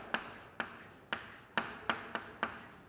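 Chalk or marker strokes on a classroom board as numbers are written, seven short scratchy taps in an uneven rhythm, close and fairly quiet with no voices.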